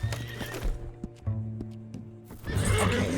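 A horse whinnies loudly and close in the video game Red Dead Redemption 2, with a shaky drawn-out neigh broken by snorts and a few hoof clops, then a noisy rush of movement.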